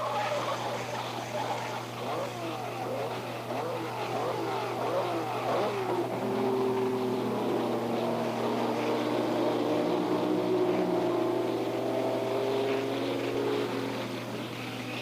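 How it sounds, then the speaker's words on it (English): A 1967 Brabham Repco Grand Prix car roars around the circuit at Canada's first World Championship Grand Prix. Its engine drones steadily with a shifting, rising pitch, heard at a distance through thin, old-film sound. "the all-powerful Jack Brabham, whose roaring first-place Brabham Repco is undulating like a merry surfboard around the final laps of Canada's first World Championship Grand Prix motor race"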